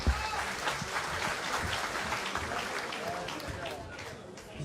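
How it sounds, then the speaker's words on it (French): A crowd applauds at a professional boxing match, dense, steady clapping and crowd noise at a fairly loud level that fades slightly near the end. "On peut les applaudir bien fort, s'il vous plaît."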